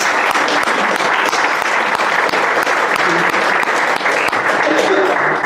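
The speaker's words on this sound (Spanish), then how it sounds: "Un aplauso para él." Loud, dense applause from an audience at an art event fills the whole stretch, a continuous close crackle of many hands clapping with no pause.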